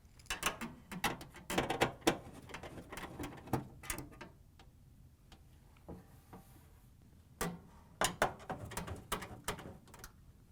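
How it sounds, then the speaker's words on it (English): A 1/4-inch nut driver backs screws out of a Whirlpool dryer's blower housing, giving repeated ratcheting clicks and metallic ticks in irregular bursts, close and moderately loud with no talking. "We're going to use our 1/4-inch nut driver to take them out."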